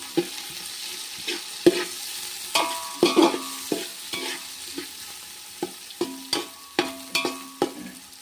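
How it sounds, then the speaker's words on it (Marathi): Onion frying with potatoes in a pan over a wood-fired chulha as poha is prepared, a steady sizzle broken by repeated sharp scraping stir strokes at close range, with no voices. "आता त्याच्यात कांदा फ्राय करून घेतोय लाल होईपर्यंत."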